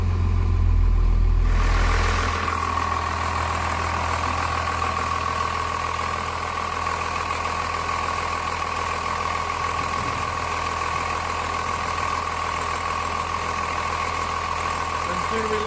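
A Cummins 12-valve diesel engine in a converted bus idles steadily just after starting following a fuel filter change, a low, even rumbling drone close by that settles after a brief louder start, with no talk.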